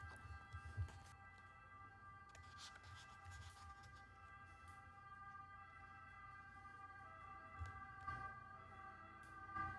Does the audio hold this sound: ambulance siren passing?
yes